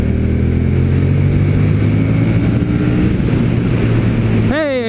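KTM Super Duke 1290R V-twin motorcycle engine roaring close up at full throttle, a loud sustained drone that ends in a sharp rising rev near the finish.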